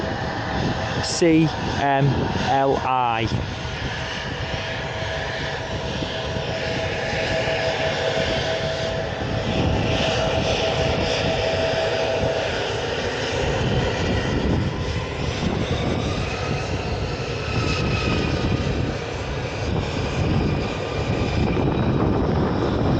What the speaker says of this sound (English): the Lufthansa A319 is taxiing out now as she goes to Munich this morning